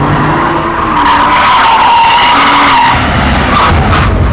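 Porsche 996 911 Turbo twin-turbo driven fast around the Millbrook Alpine test circuit, with loud continuous engine roar and squealing tyres through the corners, close and sustained throughout.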